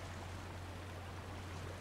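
A waterfall in the video game The Last of Us pours in a steady, unbroken rush of broadband water noise with a low hum beneath, constant and fairly close, with no voices over it.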